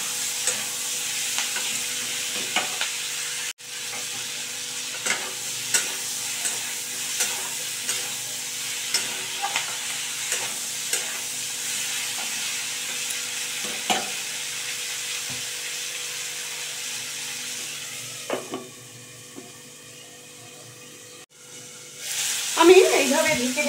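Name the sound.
green tomatoes being stirred and cooked in a pan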